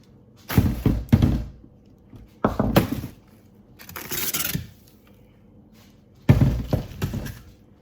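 Ice cubes and frozen packages shifted around inside a home chest freezer make several separate bursts of hard clattering, knocking and rattling, close and fairly loud, separated by quiet pauses.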